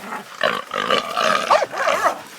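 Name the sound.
hunting dogs barking and growling at a wild boar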